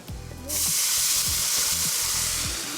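A pan sauce flaring up in a hot pan after low clunks and scrapes, a loud, steady roaring sizzle that holds strong and fills the space.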